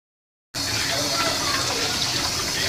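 Water from a kitchen tap while dishes are washed after breakfast, a steady close gushing stream that begins abruptly after a moment of silence and runs without a break.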